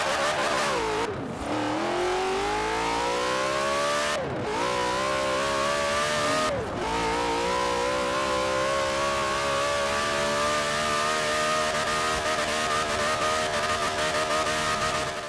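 A car in Forza Horizon 4 revs and accelerates loudly and steadily, its engine pitch climbing through three quick gear shifts before holding a sustained high-revving drone, with no talking.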